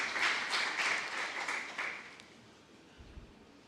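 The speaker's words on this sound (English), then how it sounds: "A round of applause." An audience at a peace and justice symposium in Musanze, Rwanda claps in a brief round of applause that fades out within a couple of seconds, moderately distant in a hall.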